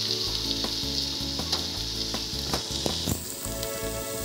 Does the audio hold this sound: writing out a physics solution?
no